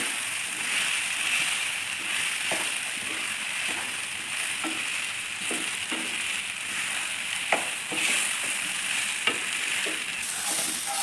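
Mushroom manchurian frying in a pan over a flame, with a steady, even sizzle throughout and a scrape of stirring now and then, heard close and alone with no voices.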